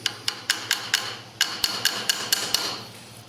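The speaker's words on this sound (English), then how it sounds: "I'm going to take a soft tip hammer and I'm going to hit the adjuster" A soft tip hammer taps repeatedly on the adjuster of a carbon-locked adjustable gas block on a rifle barrel, about a dozen sharp, evenly paced knocks close by with a faint hum underneath.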